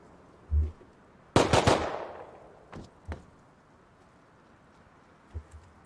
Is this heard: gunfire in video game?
yes